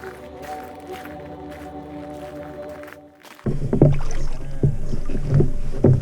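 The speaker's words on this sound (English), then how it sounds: "Okay, I got in. Awesome. The canoe is loaded." Bumps, knocks and water sloshing as someone climbs into a loaded canoe on Kingscote Lake, a quieter hum-filled stretch giving way to louder thuds and hull creaks in the second half.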